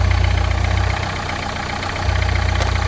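A Renault car engine idles while warming up, a steady low rumble with a brief dip in the middle before the throbbing idle returns, close and fairly loud.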